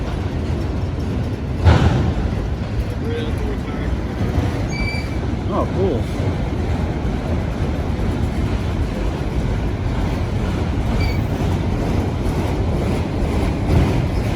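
A freight train rolls past on Indiana & Ohio Railway tracks near a crossing, with a continuous loud rumble of wheels and cars and faint squeals. A brief horn-like tone sounds early, and a man makes a short remark.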